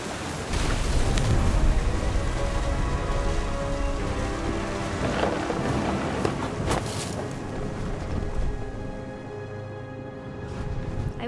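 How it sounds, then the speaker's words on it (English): A stormy scene from the video game What Remains of Edith Finch: steady heavy rain with a broad, rolling rumble of thunder and gusty wind, loud and continuous, with no voices. "The thunder sounded much too close and full of angry power."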